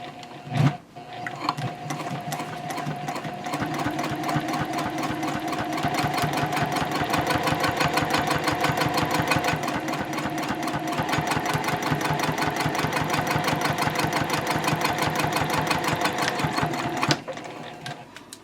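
A sewing machine stitches a Swoon Betty bowler bag, a fast, even mechanical chatter running steadily for most of the stretch, close and loud, stopping near the end with a clunk.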